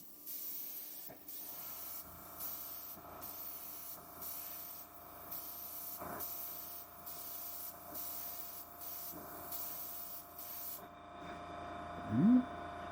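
An airbrush sprays a coat of paint with a soft, steady hiss that cuts in and out in short bursts, faint and close, with brief pauses between passes.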